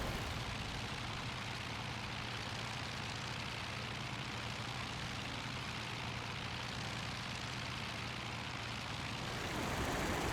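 A Po-2 biplane engine drones in a flight simulator game, a constant, even propeller hum held at a steady pitch for about ten seconds with no talk.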